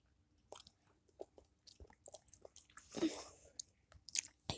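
Close, moist chewing and biting on a freshly opened sour gumball, with scattered soft smacks and one louder crunchy squelch midway, no talking.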